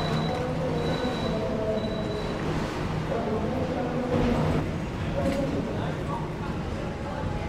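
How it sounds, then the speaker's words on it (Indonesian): The extra Gajayana passenger train, with stainless new generation economy and executive cars, pulls in at its final stop, Malang station, with rumbling wheels, squeals and brief tones as a voice talks over the noise. "kereta api Gajayana tambahan telah tiba di tujuan akhir stasiun Malang"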